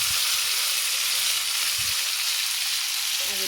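Ground chili, garlic and cumin paste sizzles loudly in a hot pan, a dense, continuous frying hiss close up with faint stirring underneath and no talk.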